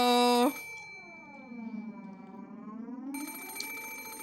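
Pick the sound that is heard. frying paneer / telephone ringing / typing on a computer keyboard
telephone ringing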